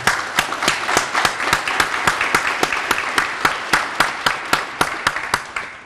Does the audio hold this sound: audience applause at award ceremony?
yes